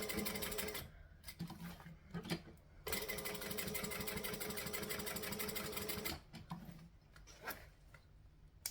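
A sewing machine stitching around a circle bag in bursts, a rapid mechanical whir running for several seconds, pausing briefly, then starting again, close and alone.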